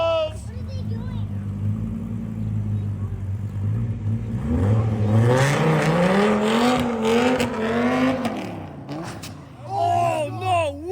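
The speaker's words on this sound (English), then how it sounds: "A Viper bumps into a Prius and then speeds away." Dodge Viper bumping into a Prius and speeding off, heard as a close engine revving and whining upward, with a brief scuff and tire noise, while a voice talks over it throughout.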